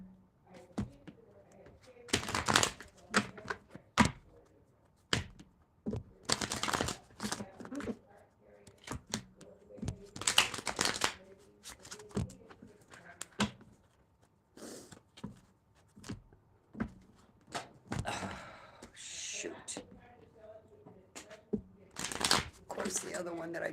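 Tarot cards are shuffled in repeated riffling bursts with thumps and pauses between them during a live reading, close and fairly quiet, with a person talking at times.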